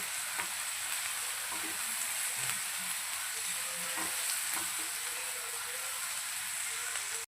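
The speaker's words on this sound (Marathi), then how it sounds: "कांदा आपल्याला लालसर असा होऊ द्यायचा आहे तांबूस कलरचा गोल्डन फ्राय आपण करून घेऊया" Chopped onions fry toward golden brown in a pan for Mumbai-style mutton keema, giving a steady, close sizzle with occasional soft stirring clicks throughout.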